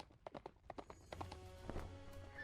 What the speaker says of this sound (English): As he gallops down the hill.